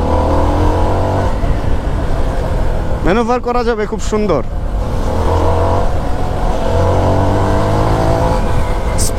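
A CFMoto NK250 motorcycle engine roars steadily through its loud exhaust, with a short revving burst midway, while someone talks over it.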